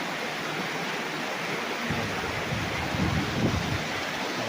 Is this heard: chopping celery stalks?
no